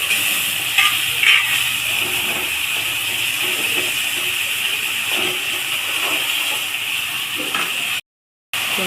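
Thinly sliced onions fry for tempering in hot oil in a home kitchen, making a continuous loud sizzle and hiss with a few brief crackles, and no talking.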